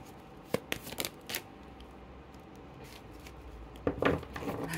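Tarot-style cards being shuffled and drawn for a reading, a few crisp riffling bursts near the start, a quiet pause, then another shuffle toward the end, close up.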